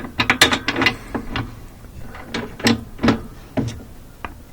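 Wrench loosening and backing out a 20 millimeter bolt from the frame of a Whirlpool laundry center washer, a run of close metallic ratcheting clicks and clunks in uneven bursts, loud and without talk.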